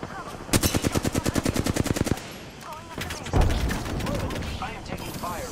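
Rapid automatic gunfire from the video game Shadow Royale rattles out in a long, loud burst. Sparser shots and game sounds follow, mixed with other noise.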